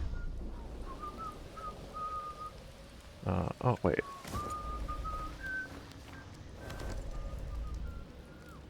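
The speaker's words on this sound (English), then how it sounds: "That whistling was so loud." Loud, sustained melodic whistling rings out in the post-apocalyptic game Atomfall, steady tones broken midway by a few sharp bursts and a short spoken exclamation.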